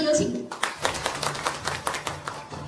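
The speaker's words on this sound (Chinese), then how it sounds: "我们掌声有请" Audience applause at a Jiangxi overseas Chinese New Year gala and official ceremony, beginning right after a voice and building into a rhythmic run of claps that continues for a couple of seconds.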